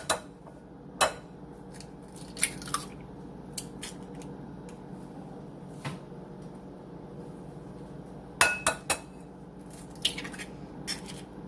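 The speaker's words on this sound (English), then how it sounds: "Get you a medium-sized bowl. Crack open 8 large eggs." Eight large eggs are cracked open into a medium-sized bowl, with sharp little taps and cracks in scattered clusters over a quiet room, no voices.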